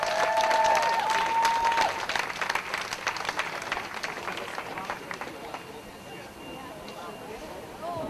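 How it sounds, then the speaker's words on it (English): Applause ripples through the crowd at an outdoor marijuana march rally in Cincinnati. The clapping starts strong and fades slowly, with voices talking and cheering in the crowd. "Give him a round of applause"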